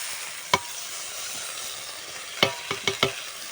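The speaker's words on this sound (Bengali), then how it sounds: "পেঁয়াজ আর আদা একসাথে দিয়ে দিচ্ছি" Onion and ginger dropped into hot oil, giving a steady sizzle with a few sharp clinks of a utensil against the pan, close and moderately loud, no voices.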